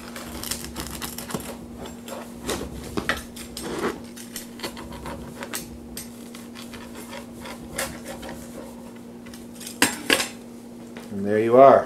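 A knife or cutter slices through a low-carb pizza with a pullable, breakable crust, producing scattered clicks and scraping clatter against a pan or plate, close up and alone, ending in a louder crunching scrape.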